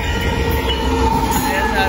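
A northbound BNSF intermodal freight train with a mid-train DPU rolls past at the Dittmar Road crossing in Austin, Texas, making a loud, continuous rail rumble with wheel noise close by.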